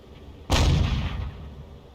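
A single loud tank gun blast in World of Tanks fires sharply and booms, then trails off in a rumbling decay with no talk over it.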